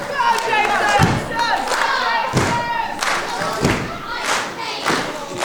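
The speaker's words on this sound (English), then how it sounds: "You can see Joshua striking the mat, getting the fans to clap along" At a pro wrestling championship match, a wrestler pounds the ring mat in loud, regular thuds while the arena crowd claps along and cheers, with a commentator talking over the noise.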